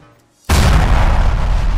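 A grenade goes off in Space Station 13 as a sudden loud boom that slams in after a near-silent moment, then a sustained roaring, rumbling blast that stays heavy for over a second.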